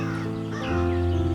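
An old crow in an animated story caws loudly and close, a single harsh call over a steady musical backdrop lasting just over a second.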